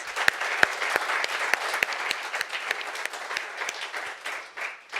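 An audience applauds panelists at a public forum on the Affordable Connectivity Program, with steady clapping and a few sharp, close claps standing out, tapering slightly near the end.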